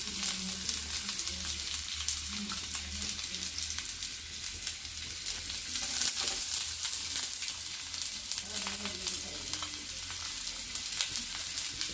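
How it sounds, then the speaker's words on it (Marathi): Onion frying in a spoonful of hot oil on a flat pan, a loud, dense, continuous sizzle and crackle close up, with occasional stirring scrapes and a faint low hum underneath. "कांदा भाजून घेऊया"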